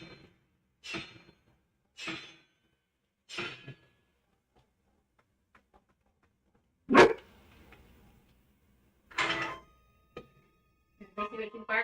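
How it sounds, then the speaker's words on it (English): A dog in Hogwarts Legacy barks in separate sharp bursts, several spaced a second or so apart, then a louder close bark and a few more, with quiet gaps between and a voice briefly near the end. "Let's see what you're barking at."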